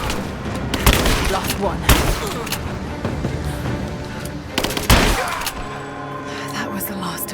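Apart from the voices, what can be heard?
gunfire in a firefight from the video game Rise of the Tomb Raider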